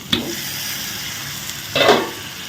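Potato, carrot, onion and green chilli sizzle in a pan while a spoon stirs them, with a quick scrape near the start and a louder stirring burst near the end over continuous frying hiss.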